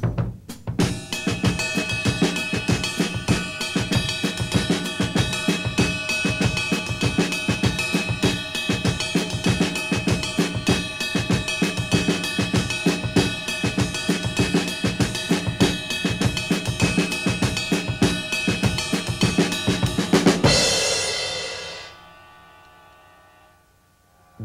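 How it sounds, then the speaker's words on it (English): A drum kit plays a samba rhythm, with steady ride cymbal strokes, snare hits and a driving samba pattern in the bass drum and hi-hat feet. The groove is loud, dense and continuous for about twenty seconds, then stops and the cymbals ring out. "right hand on ride cymbal, left hand on snare, and I play a samba rhythm in my feet"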